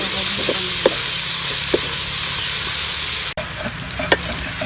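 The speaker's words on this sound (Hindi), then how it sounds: "अब उसी ऑयल में जो है प्याज फ्राई करेंगे।" Onions frying in oil left over from frying chicken, a steady close sizzle with a few soft stirring clicks and a brief dropout near the end before the hiss resumes.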